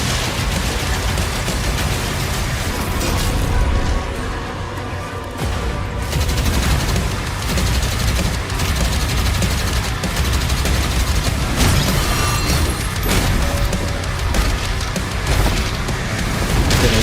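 Powerful weapons in Doom: The Dark Ages unleash dense, relentless gunfire with booming blasts and rapid volleys, loud and continuous throughout.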